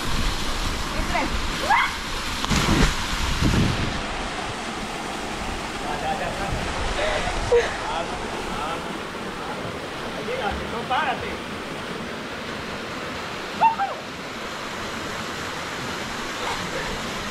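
A waterfall at Choroní, Venezuela, pours in a steady broadband roar, near and loud. A few brief splashes and faint voices surface over it.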